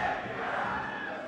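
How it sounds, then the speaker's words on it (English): A crowd of spectators at a Super Smash Bros. Melee collegiate esports crews match screams and roars in a sustained, dense wall of noise. "And you hear that, the crowd is screaming for us."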